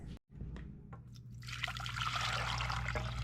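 Water pours into a pot for cooking rice, a steady trickle that builds into a fuller, louder splashing stream and keeps running.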